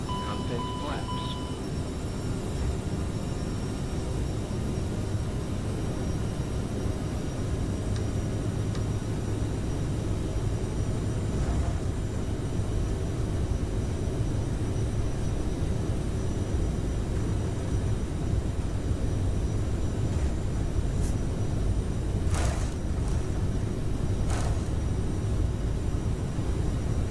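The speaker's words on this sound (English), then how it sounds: "let's go ahead and listen to this takeoff, listen to the sounds of the airplane itself" A Toliss A330-900 Neo airliner takes off in a flight simulator, with a steady broadband engine roar and rumble that holds throughout, a few faint clicks and short tones, and no voices.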